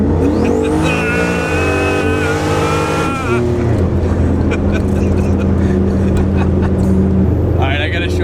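A 1000-horsepower turbocharged Trans Am WS6 revs hard and launches, its engine note climbing loud and close before settling into a steady roar, with people talking over it.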